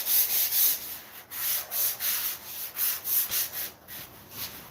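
A sponge sands a drywall corner in rhythmic back-and-forth rubbing strokes, close and moderately loud, with a soft, airy scrape on each pass.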